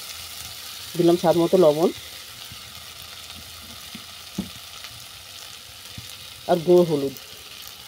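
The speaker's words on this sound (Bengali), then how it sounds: "এগুলোকে আমি সব ভালো করে ভেজে নিচ্ছি।" Vegetables with green chillies frying in a pan, salt and turmeric added, make a steady low sizzle underneath two short bursts of speech.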